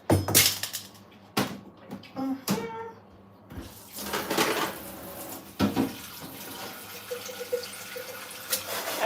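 Kitchen tap water running in bursts as nuts are washed in a sink, with splashing and stop-start flow, intermittent handling clatter, fairly close.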